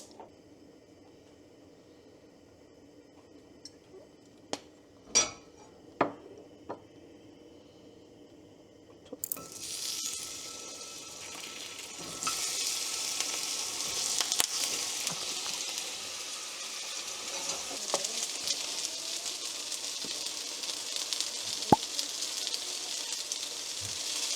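Nagaimo sizzles in sesame oil in a Hex Quad pan, a steady, fairly loud frying hiss that starts abruptly after a few quiet clicks and taps and carries on alone with crackles and pops.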